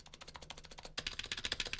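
Rapid typing on a Razer gaming keyboard with slightly rattly switches, a quick, even stream of close, crisp keystrokes that gets louder and brighter halfway through, no talking.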